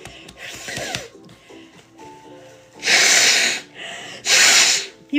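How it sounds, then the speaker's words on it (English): Two loud, long nose blows, each lasting about a second and roughly a second apart, following a stretch of quieter shuffling and small household noises. "I have to blow my nose, right?"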